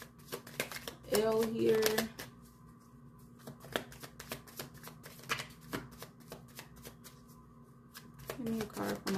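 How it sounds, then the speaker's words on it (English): Tarot cards shuffled by hand in bursts of quick riffling and flapping, with a few cards slipping and falling out, close and fairly quiet, while someone talks between and over the shuffles. "we got a lot of cards running out, falling out here"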